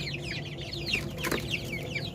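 Soft, steady clucking from a few caged hill Laiza hens under faint background noise, with brief higher calls scattered through.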